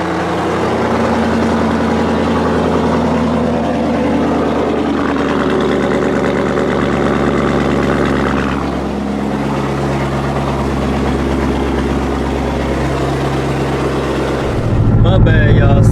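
Chevrolet Corvette C7 Z06 engine idling after a cold start, a loud, steady low rumble held throughout with a small dip partway, then a sharper shift at the very end; a voice may sit faintly beneath.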